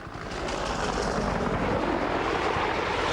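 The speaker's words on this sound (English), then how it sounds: "these Cobra helicopters are firing Gatling guns and rockets at the Iraqi soldiers" Cobra attack helicopters fire Gatling guns and rockets at a battlefield in Iraq in 2003, heard as a loud, continuous roar of rotor and engine noise with the gunfire merged into it, and no speech.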